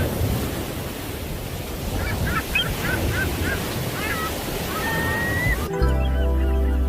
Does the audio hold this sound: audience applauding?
no